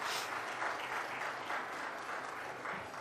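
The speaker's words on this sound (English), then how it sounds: "Can we have a warm round of applause, please?" A crowd gives a warm round of applause welcoming Dr. Subramaniam Jaishankar, India's External Affairs Minister, at a televised interview event, steady dense clapping throughout, heard fairly faint and distant.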